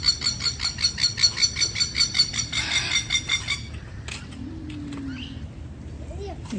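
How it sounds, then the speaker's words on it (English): Birds calling noisily in the morning in Australia: a rapid, rhythmic series of loud repeated calls for several seconds, then scattered chirps and softer cooing further off, with a person speaking partway through. "The birds are noisy this morning."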